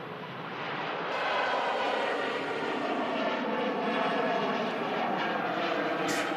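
A plane passing at Manchester Airport makes a steady, broad roar that swells within the first second and holds evenly loud to the end, heard alone without voices.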